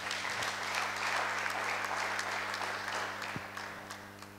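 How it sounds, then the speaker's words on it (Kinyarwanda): A church congregation applauding Jesus at an Easter service, a sustained burst of many hands clapping that fills the room and gradually tapers off. "Reka dukomere Yesu amashyi menshi."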